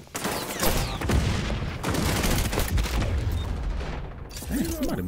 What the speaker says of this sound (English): I'm talking about in that gunfire, a bullets be coming from every direction.